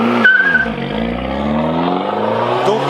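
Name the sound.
Abarth 595 Competizione car driving up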